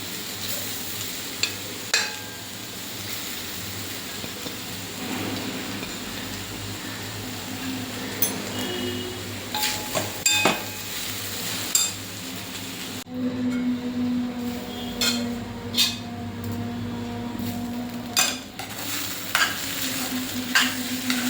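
Grated sweet potato with green chili frying in a pan, a soft steady sizzle punctuated by repeated scraping stirs and clinks of the spoon against the pan, close and fairly quiet.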